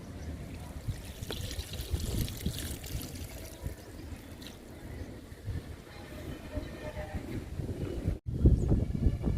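Liquid fertilizer poured over young leafy vegetable plants, a continuous soft trickle and splash running steadily, broken by a brief gap near the end and then resuming louder.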